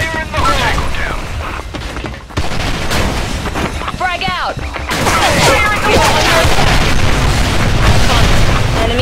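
Frag grenade blasts and gunfire in the online shooter Special Force II, heavy booms and rapid bursts filling the mix loudly, with short shouted voice callouts over the combat.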